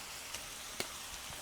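Ground beef and garlic sizzle in a pot for one-pot beef stroganoff, a faint, steady frying hiss with a few soft pops and one brief clink standing out.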